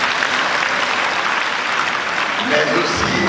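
Audience applause at the official launch ceremony of the Année FHB: loud, dense clapping from a large crowd, continuous throughout, with some voices blended in.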